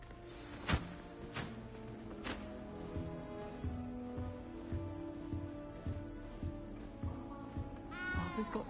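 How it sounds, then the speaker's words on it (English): A cat meows several times in the Hogwarts game, a few sharp, separate cries at the start over soft music and ambience, with another high call near the end. "You don't need to be frightened, little cat."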